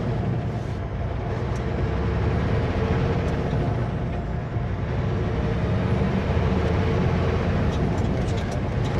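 A cement mixer truck drives past on a road in Whitehorse, a steady loud engine and tyre rumble that holds for several seconds, with a faint hiss of air brakes and people talking quietly underneath.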